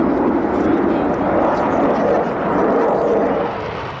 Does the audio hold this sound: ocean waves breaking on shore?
no